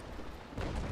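A single heavy cannon shot in a naval battle game, a deep booming blast that swells over a low rumbling background.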